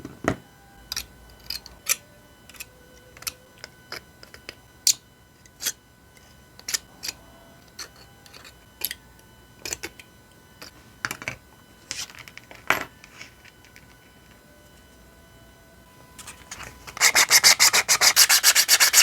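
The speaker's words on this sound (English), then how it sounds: "I used 120 grit and 240 grid sandpapers for sanding." Crunchy, scratchy rasps of 120 and 240 grit sandpaper sanding a 3D printed Genshin Impact Geo Crystalfly miniature after support removal, coming as irregular close strokes with pauses, ending in a louder, denser burst of rapid scrubbing.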